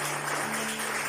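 Clapping from a congregation during a Sunday church service, a brief dense burst of applause with a steady hum underneath.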